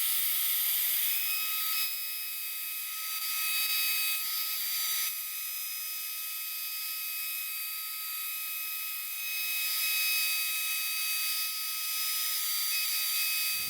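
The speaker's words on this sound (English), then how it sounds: "So now I'm going to do an inlay with an 1/8 inch spiral upcut bit." A router fitted with a 1/8 inch solid carbide spiral upcut bit cutting an inlay into a clamped workpiece, a sustained high whine and hiss with steady tonal lines, fairly loud and even throughout.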